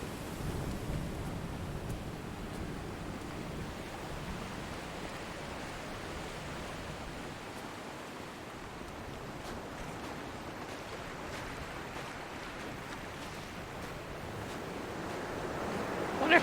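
Ocean waves wash continuously onto a beach in the video game Dear Esther, a broad steady surf roar rising and falling slightly, heard alone without speech.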